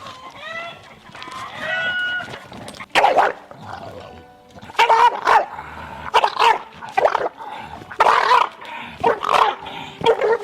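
An English bulldog barks repeatedly close by in a series of loud bursts with short pauses, preceded by softer whining and whimpers, while a person talks briefly.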